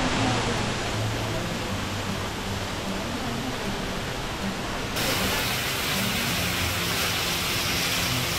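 The Shenmaoshu waterfall pours into a pool below, making a steady broadband rush of falling water that holds constant and fills the space at close range.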